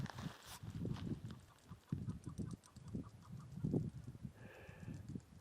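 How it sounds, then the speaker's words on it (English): Chukar partridges calling in a rocky desert mountain pass, a run of clucking, chicken-like notes repeating at a near-to-moderate distance with other bird calls in the background. "chukars, the chicken of a desert"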